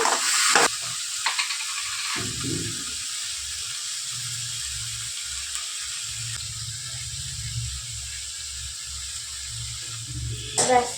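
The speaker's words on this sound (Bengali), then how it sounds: "ঠিক এই দেখো বন্ধুরা তরকারিতে এবার কষাচ্ছি কষিয়ে নিচ্ছি" Vegetable curry being sautéed and stirred in a pan, a soft steady sizzle with occasional scraping clinks of a spatula, close by and fairly quiet, with a few louder knocks near the start and end.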